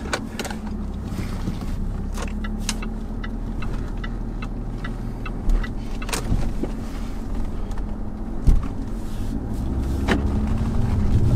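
A Jaguar with 220,000 miles on it pulls away, its engine and road rumble steady and close with wind noise and a few faint clicks and knocks from the cabin.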